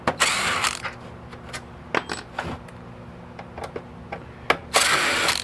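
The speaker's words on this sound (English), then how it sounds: "Let me take out the silver screws, and we'll see if we need to take out the gold screws." Screws being taken out of an Xbox console for scrapping, heard as a series of close metallic clicks, ratcheting turns and small rattles with louder bursts at the start and end.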